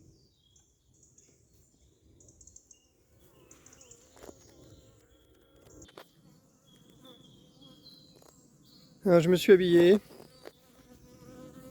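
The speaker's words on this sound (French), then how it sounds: "Il y a deux, trois abeilles qui me tournent autour." Two or three honeybees buzzing around a beekeeper moving a hive at Fontainebleau, a faint hum that swells into a loud, close buzz near the end, with quiet speech earlier.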